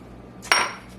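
Cold unsalted butter, about a stick and a half, dropped into a bowl makes a single brief clink and clatter against the bowl, close and fairly sharp, in a quiet kitchen with no talking.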